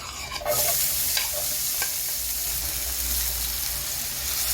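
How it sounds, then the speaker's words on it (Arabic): Onions hitting hot oil in a pan, frying as part of homemade chicken pizza topping, give a steady broadband sizzle after a brief quieter start, with a few scraping stirs over the constant hiss. "تشويحة البصل"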